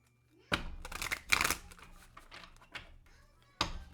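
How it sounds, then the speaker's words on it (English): Tarot cards being shuffled by hand: a few crisp riffling bursts and soft flutters of card stock, close and fairly quiet, separated by brief pauses with no talking. "One more shuffle."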